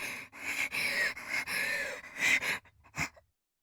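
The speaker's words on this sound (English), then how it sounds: "Her breathing became more and more erratic as her body rocked with convulsions" A character in the horror game Corpse Party breathes erratically, a close series of ragged, uneven gasps and sharp panting breaths that grow broken and trail off into silence.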